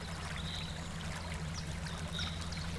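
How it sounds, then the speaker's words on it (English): Water in a scale-model roadway flows steadily through a culvert, a constant trickling, babbling stream sound with small splashes, close and alone without talk. "But the water's still flowing normal."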